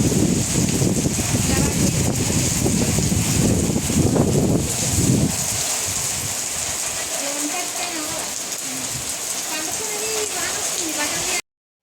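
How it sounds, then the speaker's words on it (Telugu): Heavy rain driven by strong wind, a dense broadband wash with gusty buffeting that is loudest in the first half and then settles into a steadier hiss, with faint voices underneath. "గట్టిగా గాలులు వీస్తూ పెద్దగా అయితే వర్షం పడింది."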